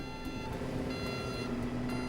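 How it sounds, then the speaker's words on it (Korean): An unmanned demolition fire apparatus sets its outriggers while a steady electronic warning alarm sounds, with faint repeating beeps riding over a constant mechanical hum. "알람과 함께 경광등이 켜지며"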